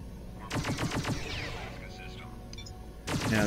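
Ship guns firing in the Freelancer space game, a rapid burst of sharp repeated weapon shots, then sweeping sci-fi effects, then another burst of quick shots toward the end, with faint whispered game voices in between.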